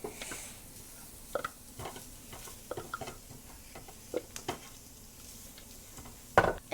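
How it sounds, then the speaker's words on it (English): Walnuts and a tofu mixture being stirred together for a vegan lasagna, giving soft irregular scraping and clicking taps against a bowl, close and fairly quiet, with one louder knock near the end. "So now I'm mixing the walnuts and the tofu mixture together."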